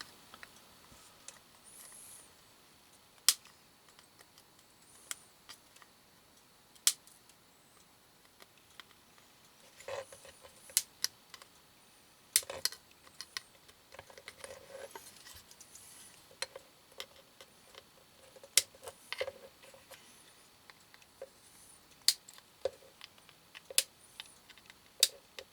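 Flush cutters snip soldered component leads one after another, producing a long series of sharp, quiet clicks at irregular intervals against a near-silent background.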